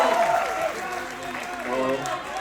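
Audience at a stand-up comedy show claps in a brief burst of applause, quite faint and mixed with crowd noise, while a voice talks over it.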